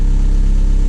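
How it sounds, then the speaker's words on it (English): A 9th-generation car engine idles at about 1,000 RPM, rattling and shaking from a fitted Type S oil pump, heard as a steady low droning hum, close and loud throughout the short stretch. "if you put a Type S oil pump in the 9th gen, expect it to rattle."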